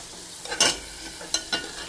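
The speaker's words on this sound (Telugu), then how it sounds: "ఈ కాయలు ఏగిపోయినాయి నేను సిమ్లో పెట్టి ఫ్రై చేశాను" Indian gooseberries (amla) frying in a pan for pickle, a faint steady sizzle broken by a few sharp stirring scrapes, close and alone without talk.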